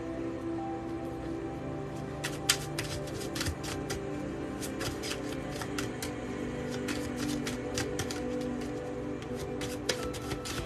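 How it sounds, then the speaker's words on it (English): A deck of playing cards being shuffled and split, with repeated crisp riffling bursts over a steady low background hum, close and moderately loud throughout. "I saw this when I split the deck as I was shuffling it"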